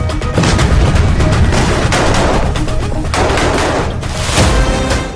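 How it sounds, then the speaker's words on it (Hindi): Dense gunfire and explosions from combat on the Rafah front, rapid overlapping bursts and heavy booms in a loud, continuous barrage with no clear gaps. "पहले देखिए रफा फ्रंट पर बारूदी तांडव का लेवल कहां तक पहुंच चुका है"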